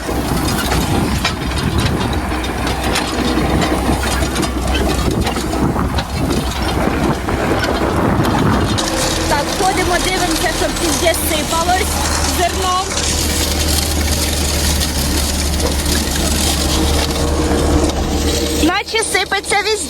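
Farm tractor driving between fields during wheat sowing, a steady low engine drone with rattling, clanking machinery running continuously throughout, loud and close, with a brief shift in tone near the end.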